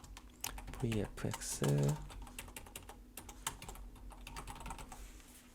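Computer keyboard keys are pressed in a steady, light clatter of close, quiet clicks during a Blender software tutorial, running under calm talk throughout.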